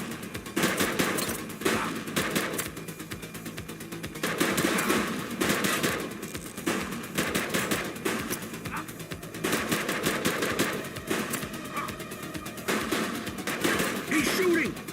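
Repeated bursts of gunfire during a police shootout in the video game The Precinct, loud and rhythmic throughout, with voices shouting in between.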